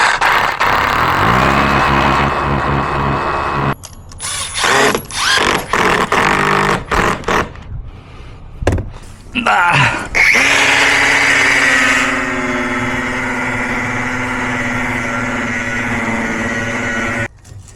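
A loud power drill drilling into brick whirs in sustained bursts, starting and stopping several times, then runs steadily for several seconds at close range.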